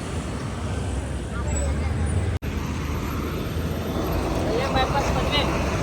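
A roadside scene with traffic rumble as a Durga Travels bus approaches along the road, a steady engine drone under ambient noise, with a brief dropout midway and voices faintly present.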